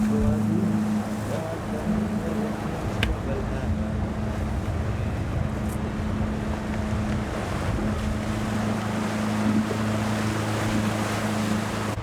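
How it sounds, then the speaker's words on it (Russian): Steady wind and sea-wave wash around a motorboat out on the Laptev Sea, with a low engine hum running underneath, continuous and fairly loud throughout. "тут волна уже другая стала"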